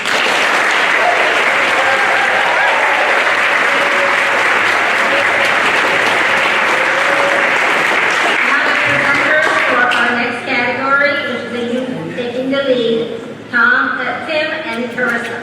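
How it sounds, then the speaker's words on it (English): Sustained applause from a community gathering audience, loud and dense for about ten seconds before thinning into scattered claps with cheering and voices over the tail. "So now we can clap for everybody."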